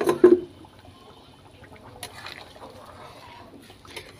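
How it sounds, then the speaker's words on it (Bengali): Fried eggs slid into simmering potato curry gravy for North Bengal egg alu ghati make a soft wet splash and sizzle at the start, then gentle bubbling and faint kitchen clatter carry on quietly. "এখন এই ভেজে রাখা ডিমগুলো ঝোলেতে দিয়ে দেব।"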